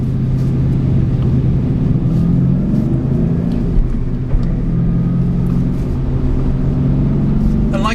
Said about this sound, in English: there really is nothing like the soundtrack of a big, thumping, muscular V8